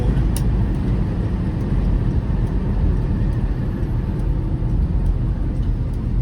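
A 1952 Pontiac Chieftain De Luxe Catalina cruising down a road, with a steady low engine rumble and road noise loud and constant from start to finish.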